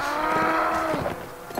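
A horse in the medieval combat game Mount & Blade: Warband lets out a loud, drawn-out, wavering neigh, heard close up against steady game noise.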